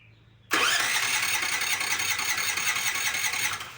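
A generator set's engine, controlled through an ATS panel, starts up right after a panel reset: a sudden loud catch into a steady, rough mid-pitched running roar that holds for several seconds before easing slightly.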